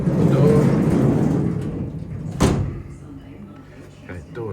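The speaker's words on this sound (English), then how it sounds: "shut the door" The sliding door of a Syntec-controlled CNC lathe is shut, a single rolling slide ending in a sharp bang, heard under continuous machine-shop hum and nearby talking.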